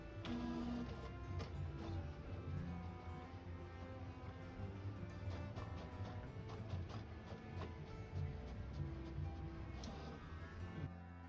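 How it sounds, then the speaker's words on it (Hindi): An HP Smart Tank 525 inkjet printer printing a test page hums and whirs steadily up close, with rhythmic mechanical clicks and ratcheting of the feed gears throughout. "प्रिंट टेस्ट पेज पर क्लिक करेंगे तो प्रिंटर पर हमारे प्रिंट आना स्टार्ट हो जाएगी"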